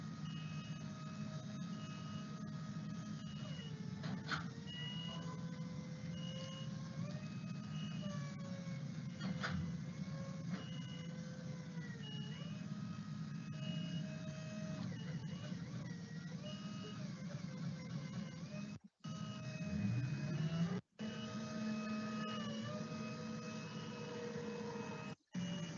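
An articulating boom lift hums steadily as it moves while operating, its motor drone under a continuous electronic whine and periodic alert tones, with a few abrupt cutouts.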